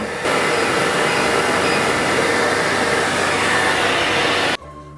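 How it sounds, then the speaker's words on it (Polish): A hotel-room hair dryer with adjustable temperature runs steadily at full blast, a loud continuous whooshing whir that cuts off abruptly near the end. "suszarka"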